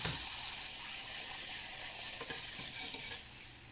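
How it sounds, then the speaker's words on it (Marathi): Makhmal puris frying in hot oil give a continuous bright sizzle and crackle, close and steady, with a few louder spatters near the end. "आता आपण या सर्व पुऱ्या तळून घेऊया"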